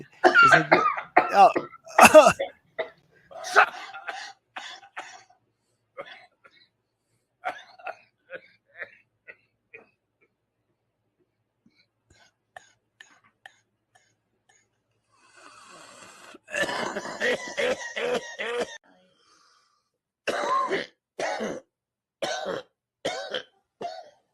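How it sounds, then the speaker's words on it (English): Repeated harsh coughs in bursts, close and loud, with a quiet gap in the middle before another cluster of coughing fits. "Cough, cough."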